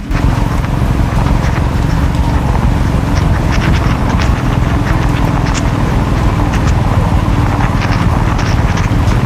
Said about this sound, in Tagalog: Lalo pa nga lumaki yung mga patak nito, kasabay pa ng malakas na hangin.